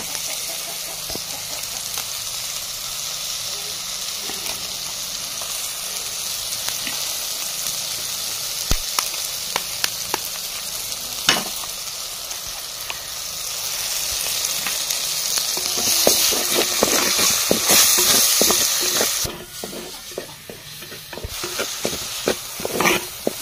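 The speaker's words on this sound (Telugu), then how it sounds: "ఎగ్లు అయితే పాలు కొట్టేసుకొని బాగా ఫ్రై అయిన తర్వాత" Beaten eggs fry in a clay pot for Maggi masala, a loud, continuous close sizzle broken by stirring scrapes and clicks that swells in intensity near the end.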